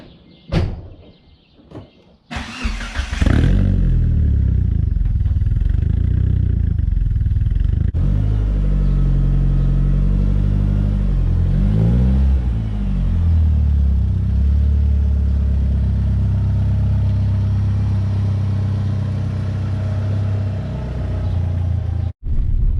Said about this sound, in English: So we just need to put some wheels on and go test drive it.